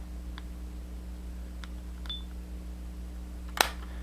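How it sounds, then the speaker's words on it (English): The pop-up flash on a Nikon L840 compact camera is flipped up, giving a single short, sharp click near the end of an otherwise quiet stretch with faint background hum. "Raise the flash."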